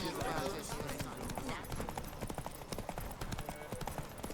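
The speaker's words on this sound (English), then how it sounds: "Na komm, lauf los, Pferd." Horse hooves galloping in the Witcher 3 video game, a fast, loud clip-clop rhythm during a horse race, with someone talking over it.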